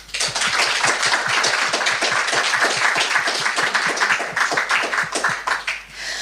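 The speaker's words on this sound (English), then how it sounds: "would you like to welcome them all with a round of applause?" An audience claps to welcome guests onto an animal-welfare political panel, the applause loud and close with individual hand claps distinctly audible in a brisk, uneven patter that thins out toward the end.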